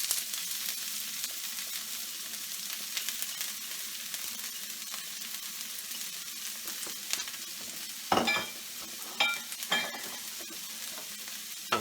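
A large chopped onion sizzles in heated oil for a shrimp and sausage paella over medium heat, a steady soft hiss broken near the end by a few louder scrapes and clatters of stirring.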